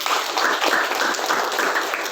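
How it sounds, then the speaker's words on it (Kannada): Students in a classroom clapping together, a steady patter of many hands lasting a couple of seconds. "ಕ್ಲಾಪ್ ಮಾಡಿ, ಚಪ್ಪಾಳೆ ಹೊಡಿ"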